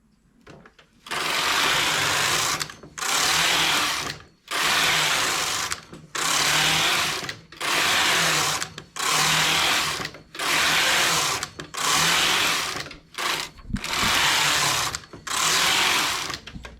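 A domestic knitting machine works rows of an English-rib (malha inglesa) bustier, its carriage whooshing back and forth in loud, regular sweeps of about a second each, separated by brief pauses, with no talking.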